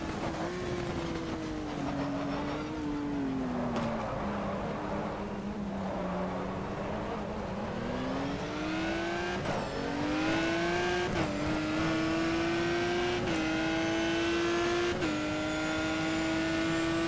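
Simulated Ferrari 575 GTC racing engine at Monza in the racing game GTR 2, heard from outside the car as a steady droning roar that rises and falls through repeated upshifts, continuous and fairly loud with no talk.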